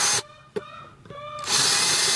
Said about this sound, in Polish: W sumie tylko wystarczy przewiercić te.